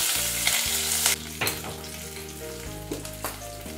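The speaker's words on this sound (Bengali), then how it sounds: "আবার আমি কড়াই একটু সামান্য তেল দিয়ে দিলাম, 2 চামচের মতো, দিয়ে আদা আর কাঁচা লঙ্কা বাটাটা দিয়ে দিলাম।" Ginger and green chilli paste sizzles loudly in a little oil in a wok, with steady frying hiss and several clanks of a spoon stirring against the pan.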